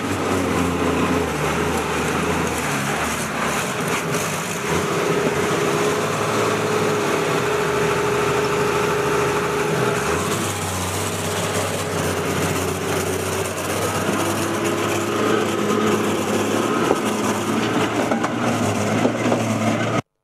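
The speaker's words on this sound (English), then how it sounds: "After 2 hours of trying, the vehicle revved into life." A vehicle engine starting and running steadily for a long stretch, a dense continuous close drone with a faint change in pitch midway.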